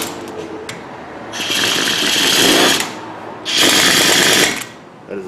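An impact wrench runs on bolts during a rear brake job on a Ford Taurus, two loud rattling bursts of about a second and a half each, separated by a short pause, with light background noise between them.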